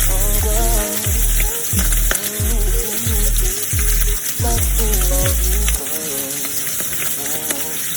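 Sausage browning in very hot oil, a loud close crackling sizzle with a series of regular low thumps and scrapes from the pan, easing off to a quieter hiss near the end.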